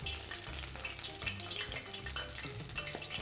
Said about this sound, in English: gently sear the underneath of the oyster